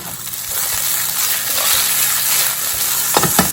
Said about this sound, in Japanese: 蓋はしないで焼いていきます。